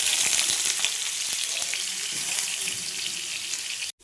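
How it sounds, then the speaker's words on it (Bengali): Potatoes frying in a pan, a steady loud sizzle with small crackles throughout, cut off abruptly at the very end. "আলুগুলো ভেজে নেব।"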